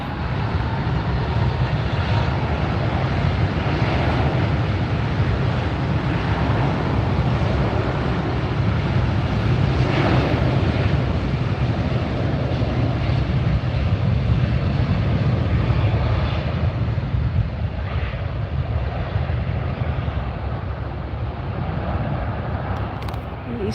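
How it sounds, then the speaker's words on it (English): A Virgin Atlantic airliner departing LAX roars loudly and steadily, a broad sustained jet rumble close by with no talk over it. "Here goes the Virgin Atlantic."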